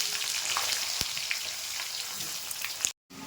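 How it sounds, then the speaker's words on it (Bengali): Potatoes frying in hot oil for a fish curry, a steady close crackling sizzle throughout with a sharp clatter near the start and a brief cut-out just before the end. "এই তেলেই আমি আলুটা ভেজে নিচ্ছি।"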